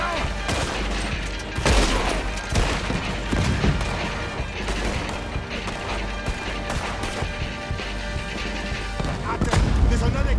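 Dense gunfire and booms from a shootout in the video game Red Dead Redemption 2, with continuous overlapping shots and impacts filling the mix while characters talk through the chaos.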